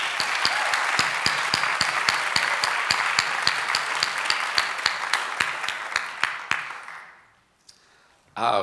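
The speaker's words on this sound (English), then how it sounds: "Let's give her a round of applause." Audience applause fills a room at an art prize gala, a dense steady clatter of many hands with sharp regular accents threaded through, fading out near the end before a brief sound returns.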